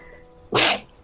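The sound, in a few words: sneeze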